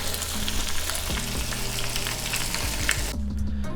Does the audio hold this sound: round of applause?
no